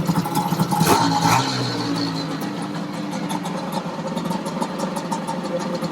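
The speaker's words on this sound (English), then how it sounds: "It's idling." A small engine idles steadily, a low even chugging that runs the whole time without any talking over it.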